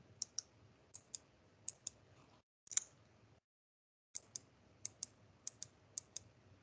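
A computer mouse clicks in quick pairs at a steady rhythm, crisp and close, with a short silent gap midway and faint background hiss.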